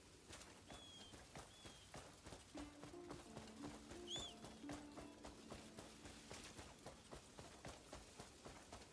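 In Crimson Desert, a horse's hooves clip-clop steadily behind the player at a moderate pace over faint ambient game sound, with a bird call and soft musical tones in the background.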